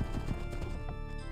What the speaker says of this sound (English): Oh, there's a horse, dude.